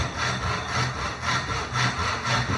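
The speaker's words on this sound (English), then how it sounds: "The second cut for your rebate joint is cutting down this line here." A handsaw cuts down a marked line in wood held in a vise, making the second cut of a rebate joint: steady rhythmic push-pull rasping strokes, close and alone, about two strokes per second.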